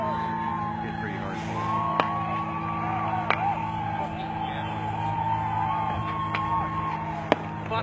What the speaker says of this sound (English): That you hear is tear gas being fired to land way back in the crowd.